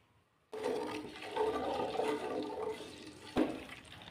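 Cumin and carom seeds hit hot cooking oil in a village-style kitchen, starting a sudden loud, steady hiss and crackle that runs on for several seconds with a sharp spike near the end.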